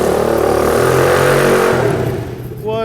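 Revving Pitster Pro pit bike with a 132 big bore kit, homemade exhaust and a lumpy cam, run up inside a shop; a loud, close engine roar swells and falls, with voices mixed in.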